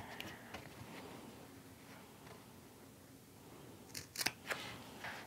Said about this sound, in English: and then clipping out the corners.